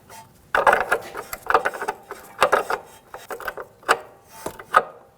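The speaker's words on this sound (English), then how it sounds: "let's break that fitting free and remove the hose and swap them" A wrench works a brake hose fitting loose on a 2014-2019 Toyota Corolla, with a series of sharp metallic clicks and scraping ratchet-like bursts in an irregular rhythm, close up and with no talk.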